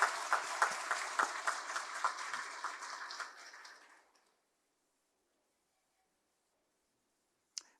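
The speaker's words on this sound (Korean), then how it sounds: "예, 감사의 박수를 한번 하겠습니다." A church congregation gives a round of applause in thanks, a dense burst of clapping that holds for about four seconds before fading into silence, with a single faint click near the end.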